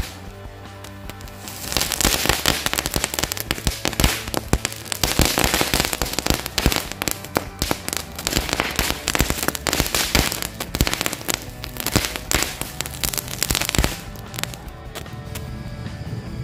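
Firecrackers set off during the first day of Ramadan crackle and pop in a dense, loud barrage lasting about twelve seconds before tapering into scattered bangs.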